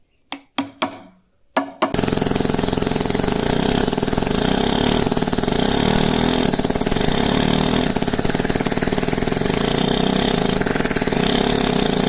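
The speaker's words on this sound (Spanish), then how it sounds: "He cambiado el otro martillo neumático por este porque el otro me daba mucho impacto y este va más suave." A few sharp knocks, then a loud pneumatic hammer carving granite or sandstone starts and chatters continuously at close range, a steady rapid rattling buzz.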